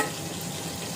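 Curry leaves fry in hot oil with a brisk, even sizzle and crackle, close and continuous, while a coriander rice dish is being cooked.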